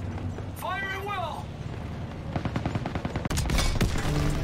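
Rapid rifle and machine-gun fire in the World War II shooter Call of Duty: WW2, a quick burst of shots after a whistling cue, with shouting voices in the battle mix.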